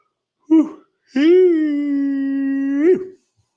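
A human voice lets out a short yelp, then a long drawn-out howling yawn that imitates a dog's howl, steady and loud before trailing off.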